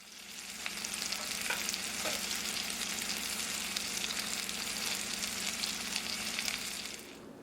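Pork chops sizzle steadily in a hot pan for several seconds while being moved and flipped, with a few soft scraping knocks under the continuous frying hiss.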